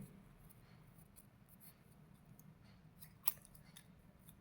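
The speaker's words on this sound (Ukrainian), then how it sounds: "смужку зеленого паперу ми розрізаємо на дві частинки" Scissors snip through a strip of green paper, giving soft, quiet crisp cuts against a low steady background, with one sharper snap standing out near the end.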